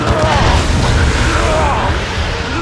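A grenade detonates in the Dawn of War 2 strategy game during a Tyranid assault, giving a loud, sustained rumbling blast that fills the whole moment at close range.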